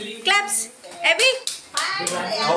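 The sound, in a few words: child clapping hands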